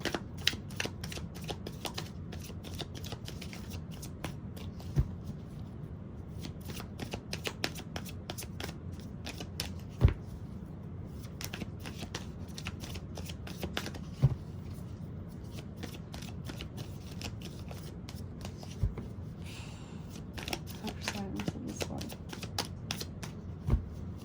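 A deck of tarot cards being shuffled by hand, a quiet, continuous riffling and flicking with occasional sharper taps, with no voice over it.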